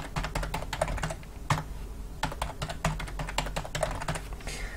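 A password being typed on a computer keyboard while configuring a Buffalo LinkStation 500 network drive, heard as a steady run of close, crisp key clicks with a few louder presses and no talking.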